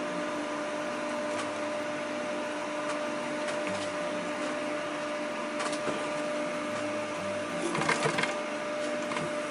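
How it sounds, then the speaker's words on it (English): A sewing machine stitches an EDC organizer pouch, a steady mechanical hum running slowly and evenly at close range, with a few small clicks and handling noises toward the end. "And start sewing slowly."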